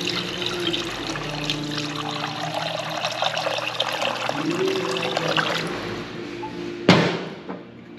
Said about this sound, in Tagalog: Lagyan po natin ang tubig.